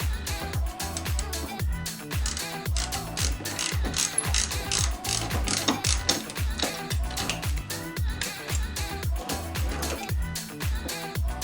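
A ratchet spins off the bolt of a Harley passenger peg, giving steady rapid clicking bursts that repeat close up across the whole stretch, with a faint voice at moments.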